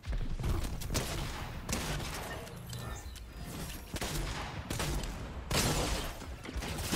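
Heavy shotgun fire in a battle royale video game, loud repeated blasts in irregular bursts with mechanical clatter between shots, close and dominant, with little talk.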